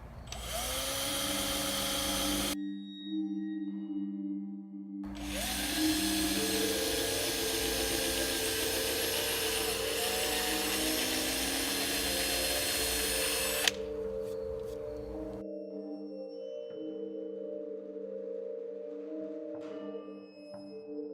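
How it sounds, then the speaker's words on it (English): Whining power drill drilling pilot holes in a wooden sign, running in long bursts with short pauses between, its motor pitch steady and close, ending with a brief clatter. "You just want to drill a pilot hole."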